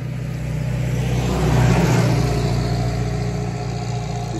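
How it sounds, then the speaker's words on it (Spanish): A car approaches on a road and passes close by, its engine swelling to a peak mid-way and then fading as it drives on, loud and alone without speech. "Por aquí viene un carro, así es que voy a tomar una pausa."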